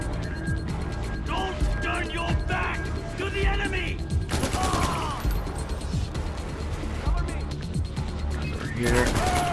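Machine gun fire in Far Cry 4 crackles in bursts amid game noise and chaotic combat, loud and near, while voices shout over the shooting.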